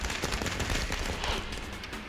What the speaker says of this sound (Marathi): त्यावेळी फटाक्यांची आतिषबाजी करून कार्यकर्त्यांनी आनंद साजरा केला.